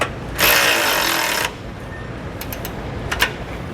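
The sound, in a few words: socket wrench tightening a bolt on a car frame rail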